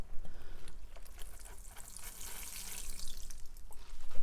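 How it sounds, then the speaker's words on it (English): Tap water mixed with liquid organic fertilizer splashing from a watering container onto potted vegetable plants, a continuous close trickling and pattering pour that rises and falls slightly in strength. "Then it's just really a matter of just watering your plants."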